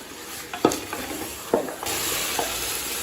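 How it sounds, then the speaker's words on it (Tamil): Yogurt-marinated chicken sautés in a pan, a close steady sizzle broken by a few sharp scrapes and knocks of a spoon stirring the pieces. "இப்போ சிக்கன் சேர்த்துட்டு நல்லா வதக்கியாச்சுங்க."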